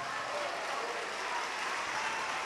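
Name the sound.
applause in church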